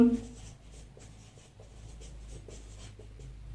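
Marker or chalk writing a short sentence on a board during an English lesson, a faint scratchy stroking that comes in brief repeated bursts over a low steady room hum.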